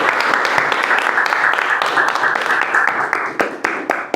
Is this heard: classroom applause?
yes